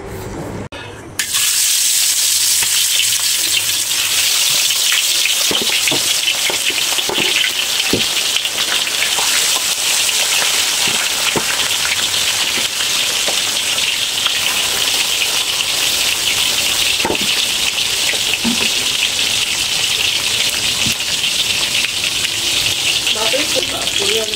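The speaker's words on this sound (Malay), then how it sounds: "Okey sahabat, jom kita masak. Masak kicap cili padi." Indian mackerel cooks in soy sauce with bird's-eye chilies, a loud constant rain-like sizzle that begins abruptly after a brief quiet moment and carries on steadily, close to the pan, with occasional clinks and stirring knocks.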